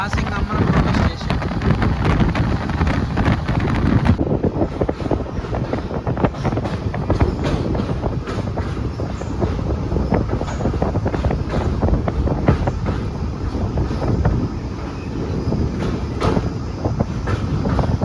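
Pinakini Express passenger train running through Ammanabrolu station, with a continuous loud rumble and rattle of the wheels and carriages and strong wind buffeting the microphone throughout.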